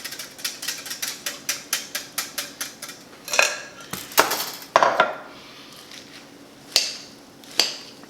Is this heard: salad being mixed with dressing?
yes